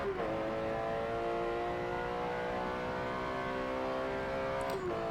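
A Porsche 911 GT3 RS races down the straight at Lime Rock in Forza Motorsport, its engine holding a steady high-pitched wail before a quick gear change near the end.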